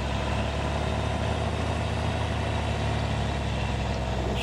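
A combine harvester engine in the farming game Farming Simulator 2013 drones with a constant heavy low-pitched hum and broadband mechanical noise, steady and unbroken, with no talking over it.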